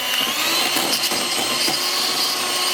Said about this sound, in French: on dirait que mon batteur il va faire une crise cardiaque là